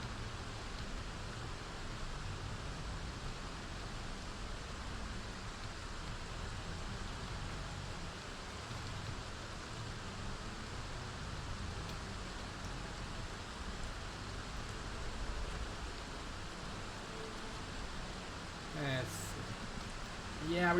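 Steady rain hisses through a stormy, foggy drive in Project Zomboid, a continuous even wash of noise filling the background throughout, with a brief sharper sound near the end.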